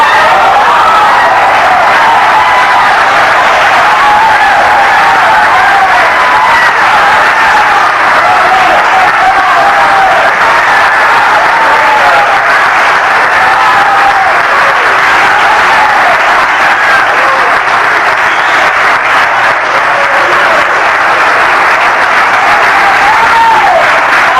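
A church congregation claps steadily and loudly throughout, a dense sustained wall of applause with faint voices and cheers mixed in.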